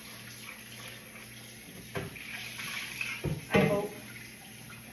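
Tea-dyed fabric napkins rinsed in water, with sloshing and splashing bursts building over a few seconds under a steady tap-like hiss, and a brief spoken phrase.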